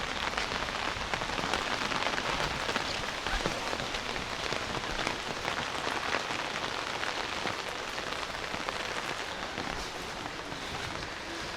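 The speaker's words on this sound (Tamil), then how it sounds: "மழை பெய்து கொண்டு இருக்கு." Rain falls steadily and close by during Diwali celebrations in Sri Lanka, an even, dense patter that never lets up.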